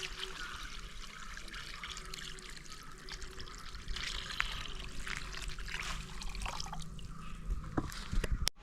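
Water is poured into a roadside bowl set out for thirsty dogs in summer heat, making a steady, close trickling splash that runs for about eight seconds without a break and with no talking.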